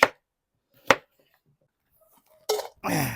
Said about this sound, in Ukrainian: Зараз нарубаємо картоплю